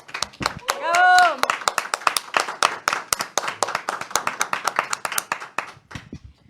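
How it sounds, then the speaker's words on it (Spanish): An audience claps for José Pablo Bonilla after he sings at a faith event, sharp individual claps forming a brisk, fairly close round of applause, with a brief voice early on. "Le damos un fuerte aplauso a José Pablo Bonilla."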